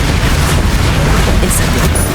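Spell explosions from Bombarda and Confringo boom in Hogwarts Legacy combat, a dense loud wall of blasts and rumble filling the whole stretch, with a spoken incantation mixed in.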